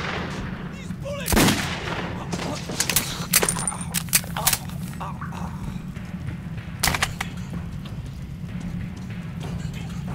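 Gunfire in the shooter game Metro 2033 rattles out in scattered sharp shots and short bursts over a steady low rumble of game ambience, with no clear talk.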